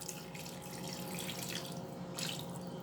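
A cup of water pours into a pot of chicken stew, a close, continuous splashing rush that swells briefly near the end, with no talking.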